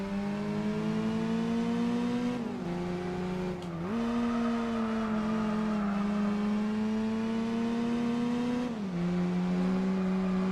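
A Toyota Supra race car engine in Gran Turismo 4 drones loud and close at high revs, with a few quick dips and climbs in pitch as the car shifts gears and corners.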